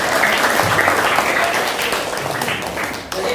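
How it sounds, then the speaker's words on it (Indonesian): A classroom group claps for a student in a loud, dense, steady round of applause that runs throughout and fades slightly toward the end. "Oke, beri aplaus buat Supina"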